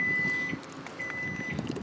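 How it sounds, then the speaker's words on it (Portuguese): A Fiat Mobi Evo Way 2017 is unlocked with its remote, giving a short electronic beep from the car followed by a second beep, heard close and clear over faint outdoor background. "Você destrava o carro"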